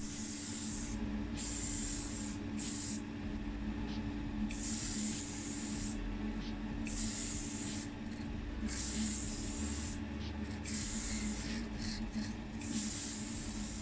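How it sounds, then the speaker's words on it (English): Primer is sprayed onto classic car bodywork in bursts, with short hissing passes separated by brief pauses, fairly quiet and steady over a low background hum. "And then we'll go over with a single coat of this primer."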